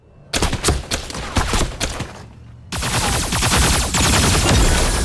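Loud bursts of rapid gunfire in the mecha combat game Hotsteel Súper Mecha Champion, a stuttering volley that breaks into a dense, continuous roar of shots.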